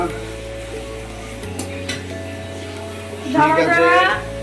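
Onions and curry frying in a pot for a Vishwakarma Puja feast, a soft sizzle with occasional clinks under steady talk and a background hum, then a louder burst of hissing frying near the end.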